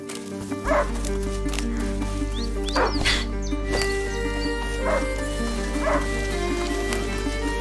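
Hunting dog in the video game A Plague Tale: Innocence barking and yipping in a few short bursts over a steady low game ambience, with faint whimpers between.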